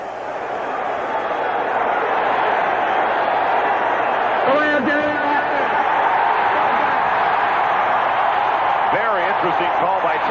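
A sellout crowd at Three Rivers Stadium during an NFL game between Kansas City and Pittsburgh roars in a loud, continuous wash of noise, with a commentator speaking over it.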